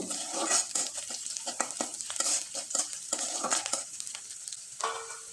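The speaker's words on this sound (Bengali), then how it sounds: "তেল দিয়ে দিলাম প্রথমে আমি পেঁয়াজ কুচি রসুন কুচি এবং মরিচ কুচি দিয়ে খুব ভালোভাবে একটু নেড়ে চেড়ে নিব" Chopped onion, garlic and chili stir-fry in hot oil, with a constant sizzle and repeated scraping strokes of a spatula in the pan, close and alone.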